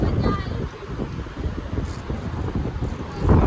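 Strong, cold wind in Manali roars steadily across the microphone, with gusty low rumbling buffets throughout and faint voices mixed in.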